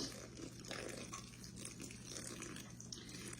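Warm water, about one and a half cups, poured into a bowl of shaggy bread dough for yeast bread, a steady soft splashing trickle that runs unbroken and fairly close for the whole stretch, with no talking.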